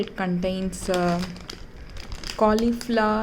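Plastic bag of frozen mixed vegetables (cauliflower, carrots, beans, peas) crinkling and rustling as it is handled, close and fairly loud beneath someone talking throughout.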